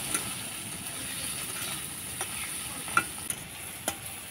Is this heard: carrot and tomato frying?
yes